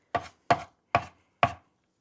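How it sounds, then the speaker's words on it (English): Fresh garlic chopped by hand with a knife on a cutting board: four crisp, evenly spaced chops close by, each a sharp knock with a short tail, with silence between them and no talk. "I'm just doing the garlic the old-fashioned way because I don't have a mincer"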